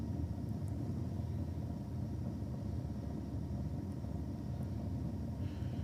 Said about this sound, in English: Mitchell Hatch in the Holden Premier. There's a big block Chev in this one according to the entry.